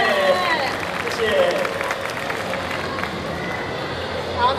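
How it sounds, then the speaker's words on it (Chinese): An audience applauds at a video game stage competition event, a steady spread of clapping from the crowd with talk mixed in. "来再掌声一次"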